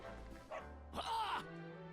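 A dog in the Dragon Quest XI video game gives a brief bark or yip over quiet game music, faint and somewhat distant, with one short burst standing out near the middle.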